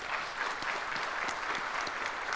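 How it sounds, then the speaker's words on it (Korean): An audience claps warmly at a welcome ceremony for a visiting delegation, a steady, moderately distant patter of many hands that holds evenly throughout. "박수 한번 주시면 좋겠습니다"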